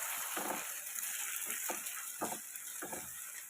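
Ivy gourd egg fry in a pan, a steady sizzle and frying hiss under a handful of soft scraping stirs at irregular intervals, close and quiet, with no talk.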